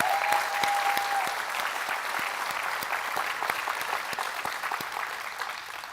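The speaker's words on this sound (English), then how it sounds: "Let's give him one more round of applause" Sustained audience applause fills a hall at a spring business conference's opening general session, a dense, even roar of many hands clapping with a few sharper claps standing out.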